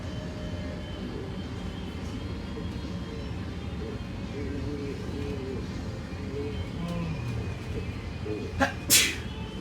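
A single sharp sneeze bursts out near the end, close and loud over the steady hum of a 2021 Ford Blue Bird G5 electric school bus on the move.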